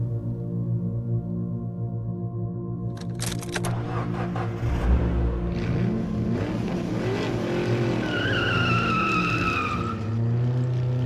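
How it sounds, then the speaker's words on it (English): A car engine idles and revs before the tires squeal and skid as it speeds off in an audio drama effect, loud and close, with rising engine tone and screeching rubber. "He starts the car and slams on the gas, zooming through the streets without regard, weaving through traffic along tight bends"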